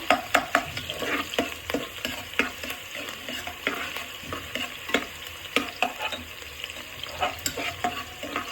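A medium onion fries in a pan for a biryani. A continuous sizzle runs under repeated rhythmic scrapes of stirring, close up with no talking.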